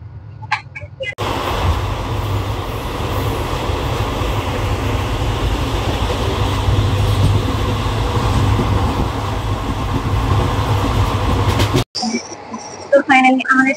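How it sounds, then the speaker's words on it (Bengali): A train pulls into Jasidih station with a loud, continuous rumble of wheels and carriages, sounding close by until it cuts off near the end; voices are heard faintly. "তো ফাইনালি আমাদের ট্রেন এখন পৌঁছেছে।"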